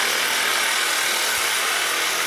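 A short length of pipe being cut by hand during a pipe-bending lesson, a close, harsh rasping saw stroke that grinds on steadily, with no speech.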